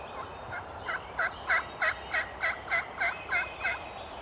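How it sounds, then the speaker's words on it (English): A wild turkey gobbles from across the water, the call coming as a faint, distant series of about ten regular rattling bursts over quiet outdoor background. "Bird just gobbled across the water."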